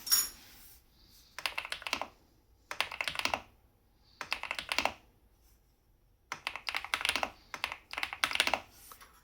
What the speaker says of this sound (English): So let's hear how this keyboard sounds.